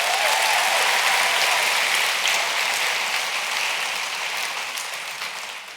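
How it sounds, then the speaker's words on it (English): A large audience breaks into sustained, dense applause at a conference session, loud and even throughout before easing slightly toward the end, with no voices standing out. "let's give a round of applause."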